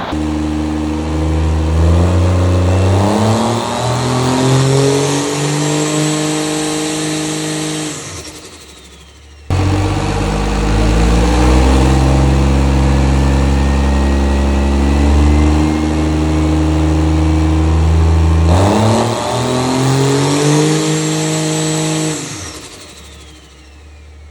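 A drag truck engine on fuel, with no nitrous, is revved twice against its staging limiter, giving two long, loud, sustained bursts that climb and then hold at the limiter, with a brief drop between them.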